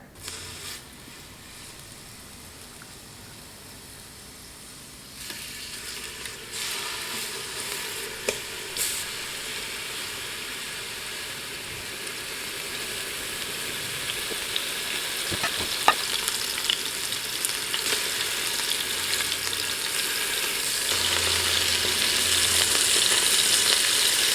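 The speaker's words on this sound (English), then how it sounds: "we're gonna stick some olive oil in it, and then we're gonna sear the meat on all sides" Meat searing in olive oil inside a Ninja Foodi pressure cooker, a steady close sizzle and crackle of frying that grows louder and denser partway through, with occasional utensil clinks.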